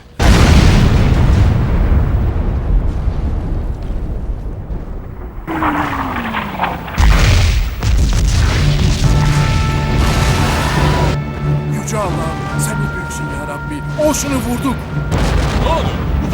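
A loud, booming wartime blast in an animated Gallipoli battle scene, with rumbling debris noise, surrounded by shouting voices and chaotic background sound.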